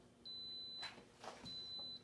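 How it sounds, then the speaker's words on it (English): A pressure cooker beeps in two long steady electronic tones with a short gap between them, faint and alone in a quiet kitchen. "that is the beep, beep, beeping that I was talking about"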